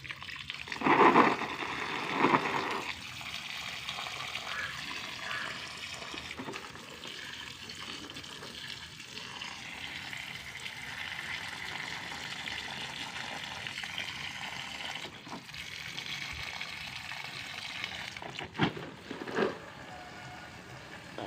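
Water poured by hand onto vegetable plants in a home garden: a steady splashing hiss runs throughout, with louder gushing bursts near the start and another brief surge toward the end.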